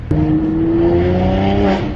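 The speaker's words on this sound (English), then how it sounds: "There's very little lag on this this turbo. You can feel it spooling, and it just unloads." Stage 2 Mercedes-Benz C43 AMG, tuned to 460 bhp, accelerating hard with a steady, rising engine drone and turbo spooling, loud and close throughout.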